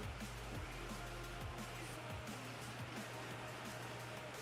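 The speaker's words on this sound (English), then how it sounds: "it is pouring. I don't know if you can see the rain." Heavy rain pours steadily with wind in a continuous dense hiss, accompanied by a low rumbling hum in the first half and scattered soft knocks.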